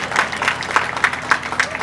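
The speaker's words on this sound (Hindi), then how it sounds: "एक बार ताली बजाइए आप लोग भी।" An audience claps at a Hindi comedy poetry gathering in a fairly rhythmic pattern of regular beats, moderately loud, with faint voices mixed in.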